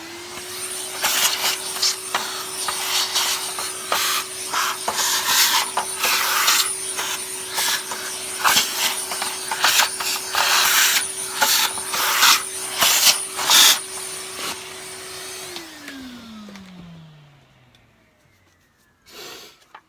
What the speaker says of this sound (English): Let me just vacuum in here.